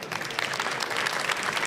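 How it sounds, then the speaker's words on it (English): Audience applause for two presenters from the shipbuilder Damen at a wind-farm energy conference, a steady, dense clatter of clapping from a crowd that holds at an even level throughout. "Can I get some applause for Mark and Rebecca of Damen?"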